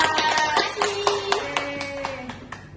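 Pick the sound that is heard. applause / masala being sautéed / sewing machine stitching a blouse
applause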